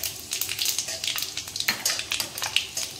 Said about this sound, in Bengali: আমি 5 ফোড়ন আর একটা শুকনো লঙ্কা নিয়ে নিয়েছি, আমি ফোড়নই দিয়ে দিলাম।